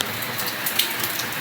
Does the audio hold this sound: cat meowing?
no